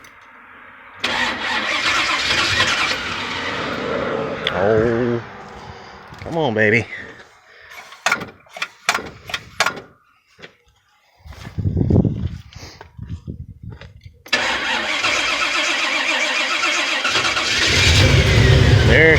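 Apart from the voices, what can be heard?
Pontiac car engine cranking and starting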